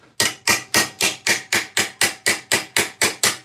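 Hammer blows flattening a metal piece for later belt sanding, about a dozen sharp, evenly spaced strikes at a quick steady rhythm, close and ringing briefly, with no talking.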